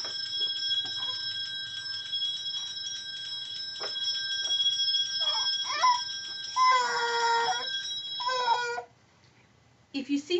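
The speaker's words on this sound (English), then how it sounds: "I'm going to play a bell song on my phone" A melodic bell tune plays from a small phone speaker, bright tinny tones ringing over a faint background with a few brief soft noises.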